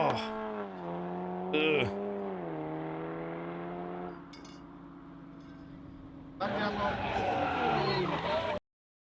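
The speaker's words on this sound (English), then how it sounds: "I'm aware of how launch control generally works on cars, but that particular one sounded atrocious" A Skoda on launch control holds a harsh, buzzy engine rev at a steady pitch, dips lower, then roars up again louder near the end, with a person briefly groaning.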